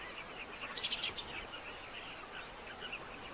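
A breeding colony of carmine bee-eaters on the Zambezi riverbanks gives faint, distant chirping calls over a constant background hum, with a brief cluster of calls about a second in.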